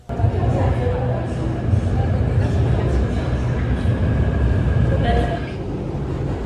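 Steady rumbling interior noise of a moving metro train in Shanghai, continuous rail roar with faint tonal whines, while a person talks over it throughout.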